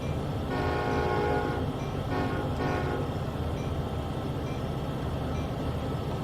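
A freight train rumbles steadily in Train Sim World 2 on the Sand Patch Grade while its horn sounds in loud sustained blasts near the start, then the heavy rolling drone continues alone.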